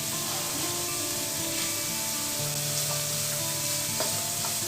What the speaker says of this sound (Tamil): கேரட்டையும் ஒரு 2 நிமிஷத்துக்கு வதக்கிக்கோங்க.